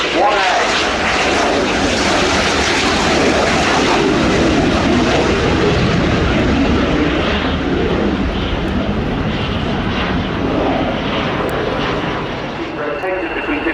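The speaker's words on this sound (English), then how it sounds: "rolling now underneath it, the aircraft I was talking about, from the Catalani group, the Fiat G91R" Fiat G91R jet aircraft flying at an air show, a loud sustained roar that slowly fades, with a commentator talking over it.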